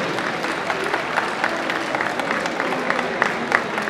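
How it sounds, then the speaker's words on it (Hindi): Sustained applause from an audience at a comic book launch honoring wrestler Dara Singh greets actress Salma Agha, with many individual claps standing out in a steady, moderately loud wash. "जोरदार से जब तक आए तब तक तालियां बजती रहें।"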